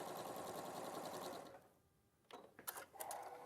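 A sewing machine runs steadily, stitching a quarter-inch seam with a fast even whir for about a second and a half, then stops; after a pause come a few sharp clicks and fabric handling noises.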